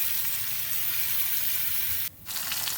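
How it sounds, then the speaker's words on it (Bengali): Soybean chunks sizzle in hot oil in a pan with salt and turmeric, a steady crackling hiss broken by a short dip, as if stirred, before resuming. "ভালোভাবে ভেজে নেব হালকা লাল লাল করে।"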